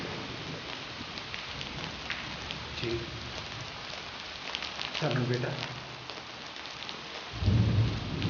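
Steady rain falls heavily outdoors, and a deep rumble of thunder rolls in near the end. A few spoken words are heard under the downpour.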